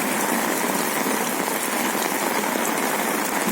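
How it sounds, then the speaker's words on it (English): Heavy rain pours down in a steady, dense hiss of drops striking surfaces. It is loud and constant, with no voices or breaks. "It's heavy raining here."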